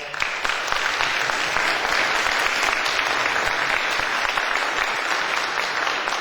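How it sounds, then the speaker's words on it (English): Audience at a Rockdale County Fraternal Order of Firefighters candidate forum applauding steadily, a dense, even wash of hand claps filling the room for several seconds with no break. "If we could give a round of applause"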